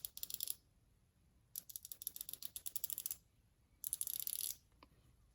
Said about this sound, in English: these are the 120 models, which means that they have 120 positions in the ratcheting box end.